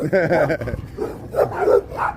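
Small dogs bark and yip behind a fence in a Chicago South Side neighborhood yard, a few sharp nearby barks with a voice talking over them.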